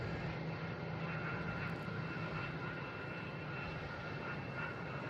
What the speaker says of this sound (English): we have an American Airlines coming in on 4 right